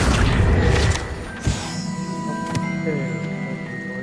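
Spell blasts cast in the video game Hogwarts Legacy: a loud rumbling burst opens, then a sharp boom and later a crack ring out over tonal magical effects and lingering shimmer.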